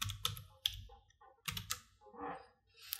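Typing on a computer keyboard at a desk: short clusters of close, crisp key clicks in separate bursts with brief pauses between them, quiet, with faint background sounds.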